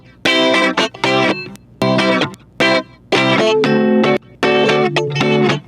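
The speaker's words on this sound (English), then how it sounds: "And then next up, we have the rhythm guitar." Rhythm guitar heard solo, run through compressor, chorus and distortion effects, playing choppy chord bursts with abrupt gaps between them, loud and close with no voices.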